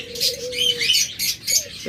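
Pet lovebirds or cockatiels chirp and tweet in a bright, busy cluster of calls, close and fairly loud, with short repeated whistles over a steady chatter and no voices.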